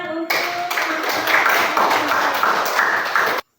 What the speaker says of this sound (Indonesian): Kita berikan tepuk tangan untuk